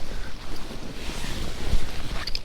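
Strong wind gusts across a frozen lake during ice fishing, with low roaring rumble and blustery buffeting against the microphone, rising and falling unevenly with no voices.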